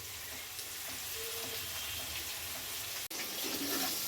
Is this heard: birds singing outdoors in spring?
no